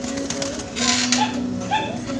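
Taiwan pigeons in a cage coo softly while pairing, low repeated murmuring calls close by, with brief higher chirps and some background clatter.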